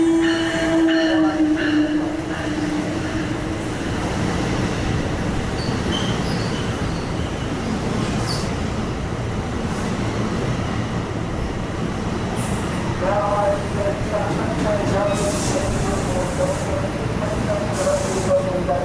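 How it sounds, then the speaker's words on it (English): Bombardier bilevel cars are pushed into a station by an ALP-46 locomotive, with a steady rumble of rolling cars, intermittent wheel squeal and some high-pitched screeching near the start. "Nine bilevels are being pushed into the station by another ALP-46"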